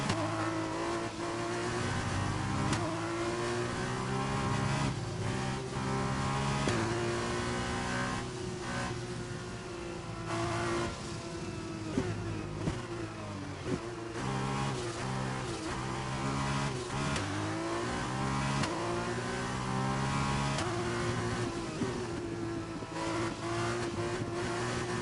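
An F2 race car engine in a racing video game at Bahrain whines continuously, revving up and down through gear changes, loud and steady throughout with no talk.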